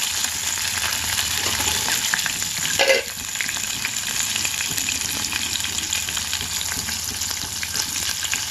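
Peas and green chillies frying in a pan for jonna rava upma, a steady close sizzle with stirring scrapes throughout and a brief louder burst near the middle.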